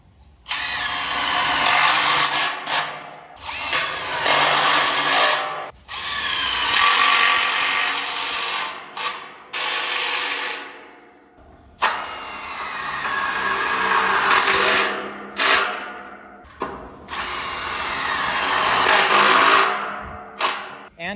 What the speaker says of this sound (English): now we're going to just fix the truss in place with self-tapping screws.